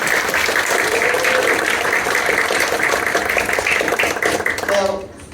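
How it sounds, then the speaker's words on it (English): An audience applauds a magic show assistant named Brennan as he comes on stage, with dense, steady clapping holding full for about five seconds before tapering off at the end. "How about a round of applause for our assistant?"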